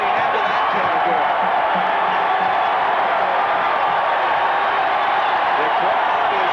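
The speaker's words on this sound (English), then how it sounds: "The crowd is really into it now." A basketball arena crowd roars steadily throughout, a dense, loud wash of cheering from a college game between Illinois and Iowa, with a commentator's voice talking over it.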